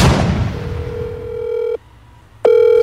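A telephone rings unanswered indoors, a steady electronic tone holding for over a second, breaking off into silence, then sounding again, after a brief noisy burst at the start.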